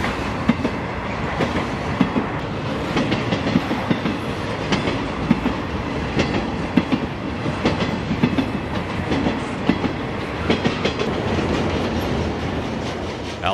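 A train rolls past close by in Altoona, a loud continuous rumble with rhythmic clickety-clack of wheels over rail joints throughout.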